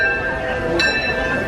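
Steady rumble and rattle of a moving Disneyland Railroad train car, with a sustained metallic hum and a brief clink partway through.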